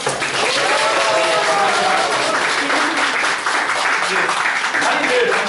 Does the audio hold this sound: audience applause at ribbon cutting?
yes